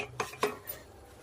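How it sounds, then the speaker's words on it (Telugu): Two quick metallic clanks as a pot is set down into water inside a pressure cooker, close by in a quiet room. "కుక్కర్లో కొన్ని నీళ్ళు పోసి గిన్నె పెట్టేసి"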